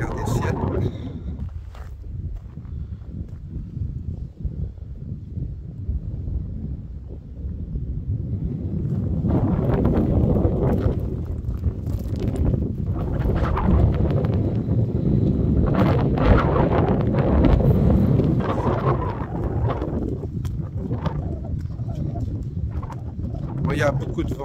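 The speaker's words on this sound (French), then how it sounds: "C'est pas agréable quand on entend du vent comme ça." Strong wind buffets the microphone outdoors with low, rumbling gusts that swell and rise in the middle and stay rough and loud throughout.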